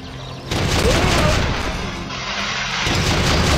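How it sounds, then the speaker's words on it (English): The SBC cannon, a machine gun in the game Enclave Reforged, fires a continuous dense stream of shots that starts abruptly and roars on loudly and steadily, with a brief voice near the start. "I came up with the SBC cannon. This is basically their MG."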